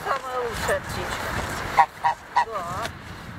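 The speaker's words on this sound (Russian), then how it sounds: "Гага, пожалуй, самый знаменитый гусь Петропавловска." Several loud, distinct goose honks ring out near the end, three sharp calls spaced about half a second apart, after softer honking and a low background murmur.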